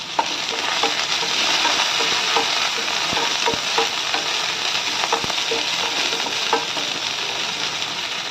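Chopped onions, green chillies and curry leaves fry in hot oil with mustard seeds and cumin, giving a loud, steady, close sizzle with faint stirring clicks throughout and no talking.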